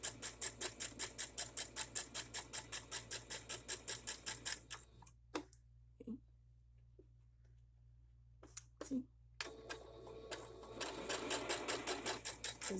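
A sewing machine zigzag-stitches through fabric strips, a fast rhythmic chatter for about five seconds, then quiet with a few clicks before a softer burst of stitching resumes near the end.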